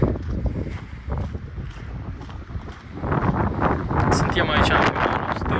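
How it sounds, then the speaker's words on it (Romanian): Wind buffets a microphone at the seashore by big waves, a gusty low rumble that grows louder and rougher in the second half, with a person's voice partly heard under it. "nu știu dacă se audă ceva pentru că e vânt"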